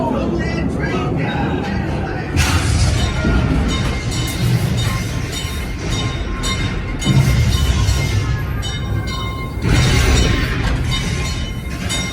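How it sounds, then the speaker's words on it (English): A dense, rumbling roar with repeated heavy crashes and clattering debris from a dynamite-explosion and cave-in effect on the Calico Mine ride at Knott's Berry Farm, booming on for several seconds without a break. "This shaft is caving in."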